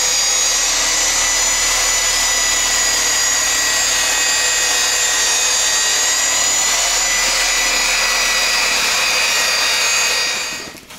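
A rotary polishing machine works a car headlight with a steady high-pitched whine, loud and continuous for the whole stretch, winding down at the end.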